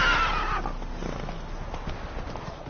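Roach, a horse in The Witcher III: Blood and Wine, lets out a short, loud whinny at the very start, which then fades into soft low rumbles and faint movement.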